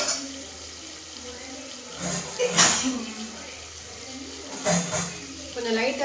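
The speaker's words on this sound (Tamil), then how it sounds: "இப்போ தேவையளவு தண்ணி ஊற்றிட்டு" Water is poured into a pot of masala-coated chicken for a traditional village-style chicken biryani, with two short gushing bursts near the pot while someone talks.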